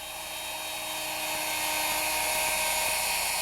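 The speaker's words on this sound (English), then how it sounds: "you guide the router along one fence, That's right. cutting through both sides" A router guided along a fence cuts a dado through both sides of a workpiece, giving off a loud, steady high-pitched whine that builds slightly and holds with no pauses.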